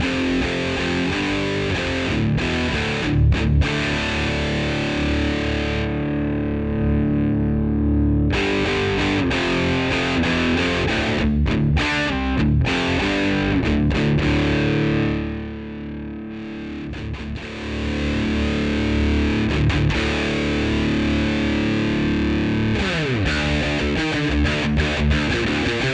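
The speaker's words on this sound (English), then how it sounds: "I'm much preferring that one more as a distortion" An electric guitar is played through a Joyo Baatsin overdrive pedal, producing thick, saturated distorted chords and riffs that ring continuously at strong volume, with one brief softer dip partway through.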